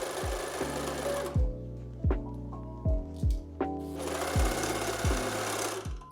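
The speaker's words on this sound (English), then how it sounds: "and then you're just gonna sew them together." A sewing machine stitches wool sweater pieces together, running in short, close bursts of rapid mechanical thumping separated by pauses, with quieter handling sounds between runs.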